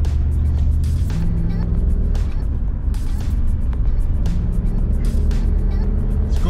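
A Mercedes-Benz 560 SEC's V8 roars loud and close, a deep steady rumble that swells slightly in places as the engine is revved.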